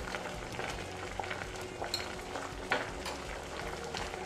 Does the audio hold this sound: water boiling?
yes